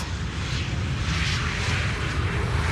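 An airliner lands on the Polderbaan runway at Schiphol Airport, its engines a broad continuous roar, steady and fairly loud throughout at a distance with no voices.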